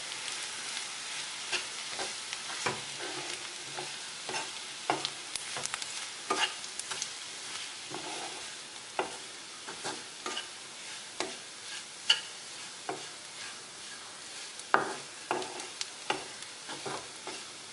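Masala being stirred in a pan with kudampuli and salt for a Kerala prawn thoran, a steady faint sizzle broken by repeated scraping and clinking strokes of the spoon, with no voices.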